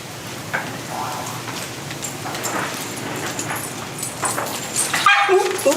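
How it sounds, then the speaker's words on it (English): A dog whimpers and yips after being stepped on indoors during a city council meeting, short bursts over a steady background hiss and room murmur, with people talking nearby. "Stepped on the dog."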